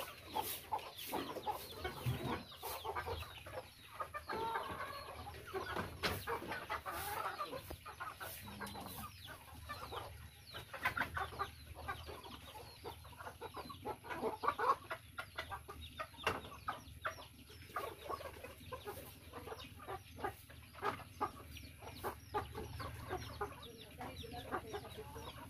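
Chickens and chicks on a backyard farm, scattered soft clucks and peeps at low level, with occasional sharper calls and faint background noise, and no talk.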